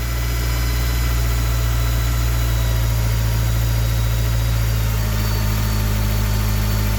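A rebuilt Honda K20Z4 engine swapped into a Civic EJ9 idles steadily, a loud, even, low drone that stays constant from start to finish with no voices.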